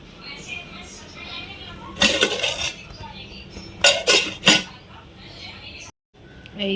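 Steel dishes and pots handled in a home kitchen, with a few sharp clattering bursts and scrapes rising above a quiet background.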